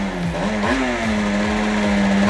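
A Yamaha TZR 80 RR motorcycle engine revs up steadily, its pitch rising as it accelerates to about 80 km/h, loud and close throughout.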